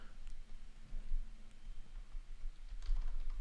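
A computer keyboard being typed on in short, scattered bursts of soft clicks and taps at a quiet level, with a low hum running underneath.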